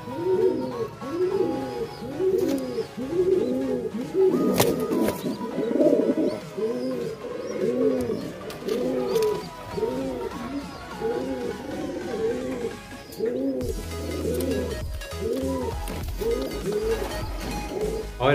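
Pigeons in a breeding loft coo close by in steady, repeated rounds of throaty, rolling calls that run nearly nonstop, with faint rustling and a few light knocks underneath.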